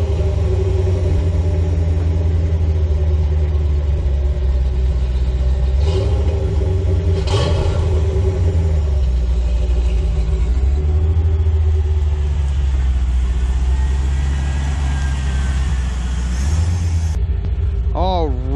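A Corvette C4 engine runs steadily as the car is driven outside, a low continuous rumble with slight swells in revs throughout, close and fairly loud.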